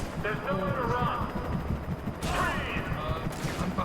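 Gunfire in the video game Alan Wake, quick bursts of shots that come in repeated clusters over steady game background noise, with no talk heard.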